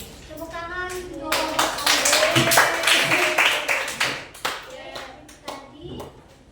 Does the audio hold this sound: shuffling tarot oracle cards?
no